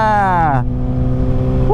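A Kawasaki Ninja ZX-6R sport bike engine revs up in a rising whine, then drops back to a steady low idle-like drone, loud and close, with a rider's voice briefly over it.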